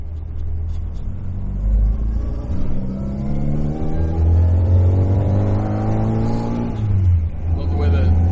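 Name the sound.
sports car dual exhaust revving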